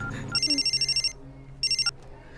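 A telephone ringing for an incoming call, two bursts of rapid electronic trill pulses separated by a short pause, clear and close.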